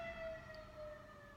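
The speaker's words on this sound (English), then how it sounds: "you hear that siren? Something's going on out there." An emergency siren wails faintly in the distance outdoors, a thin steady tone holding over quiet background.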